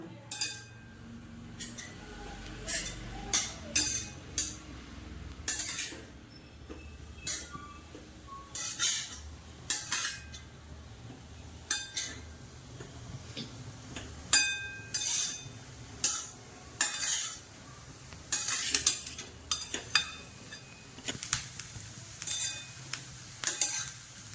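Freshly grated coconut roasts in ghee in a pan under a soft constant sizzle, punctuated by frequent irregular scrapes and clinks of a spoon stirring against the metal.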